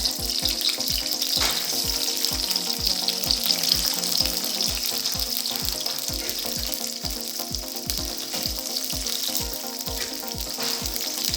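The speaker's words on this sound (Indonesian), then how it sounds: "Lalu kita goreng bawang merah, bawang putih" Steady sizzling of shallots and garlic frying in hot oil, with a regular rhythmic thumping underneath and occasional stirring sounds.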